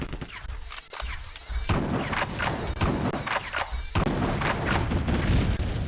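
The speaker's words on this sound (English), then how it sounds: "Run through the bloody explosion." Explosions in the video game The Terminator: Future Shock, heavy booming blasts with crackling, gunfire-like bursts that erupt suddenly and keep rumbling loudly in close succession.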